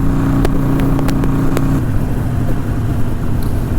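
Harley-Davidson Iron 883 Sportster cruising at 70 mph around 3,900 rpm, giving a loud, steady close-up engine drone with wind buffeting and a few brief sharp ticks early on, and no voices.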